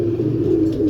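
A French female pigeon gives a low, throaty coo, one close, sustained rolling call lasting under a second.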